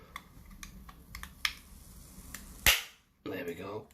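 Plastic casing of a battery-powered gadget being torn open during a teardown, heard as a sharp loud crack and snap partway through, after a few light clicks and before a person starts speaking.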